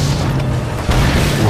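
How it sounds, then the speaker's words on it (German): A vehicle explodes in the Mad Max video game on PS4, a loud, deep, rumbling boom that swells again near the end of a short, continuous blast. "Wow, wie der explodiert ist."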